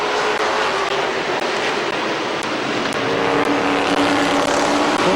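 Race cars roaring around the track at Midvale Speedway, a loud, continuous engine drone from several cars with shifting pitch as they pass, dense and close with no gaps.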